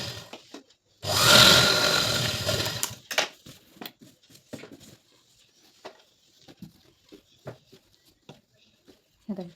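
A sewing machine stitching a blouse runs in one close, steady whirring burst of about two seconds, followed by quiet cloth handling, small clicks and occasional speech.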